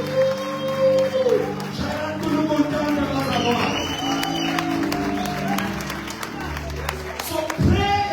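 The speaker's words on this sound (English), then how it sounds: "Come on, clap your hands and give God praise." A congregation clapping hands at a revival church service, a sustained wash of crowd clapping and cheering mixed with music and voices throughout.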